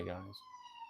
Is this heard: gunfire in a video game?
no